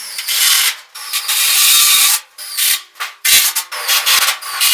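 A small clamp being worked and fastened during repair of a fire-damaged wood furnace, loud and close, with bursts of ratcheting, rubbing and grinding mechanical strokes separated by short pauses.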